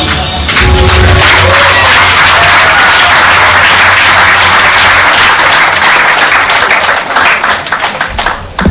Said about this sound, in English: A round of applause for our presenter, Shadow Minister Dr. Deborah Pickling Gordon.